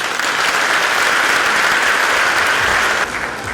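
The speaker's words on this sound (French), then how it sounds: "Premier du concours, on peut l'applaudir, Monsieur Puceau Daniel." Sustained, loud applause from an audience at a New Year's greetings ceremony, honoring the first-place winner of a craft competition, steady clapping that dips slightly near the end.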